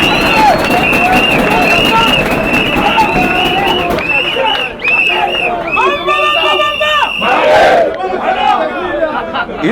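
Large political rally crowd in Congo cheering and shouting in acclaim for Etienne Mamulumba, a dense, loud roar of voices with scattered cries and whistles, swelling again toward the end.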